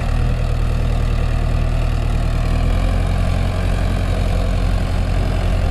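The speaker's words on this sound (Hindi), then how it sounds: "टू व्हील में थोड़ा सा चल रहा है ट्रैक्टर, लेकिन भाई इस मिट्टी में तो 4 व्हील ही चल रहा है" A Sonalika 60 tractor engine runs steadily while working through mud, a loud, deep and continuous rumble that stays close with no break or change in pace.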